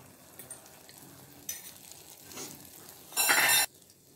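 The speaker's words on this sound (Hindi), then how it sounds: "ये देखिए तेल हमारा गर्म हो चुका है, अब हम इसमें अंडे ऐड कर लेंगे।" Beaten eggs seasoned with salt hitting hot oil in a pan, a sudden loud burst of sizzling near the end after scattered clinks and scrapes of a utensil against the pan.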